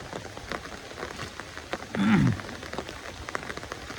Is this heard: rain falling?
yes